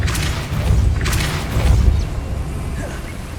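A Depulso force spell cast in the Hogwarts Legacy video game, producing two heavy booming thumps about a second apart, loud and close, with a rumbling tail fading over the following seconds.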